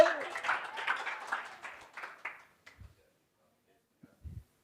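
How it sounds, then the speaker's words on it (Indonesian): Church congregation clapping for several seconds; the applause is strongest at the start, then tapers off into a few scattered claps and near silence. "Tepuk tangan buat Tuhan kita"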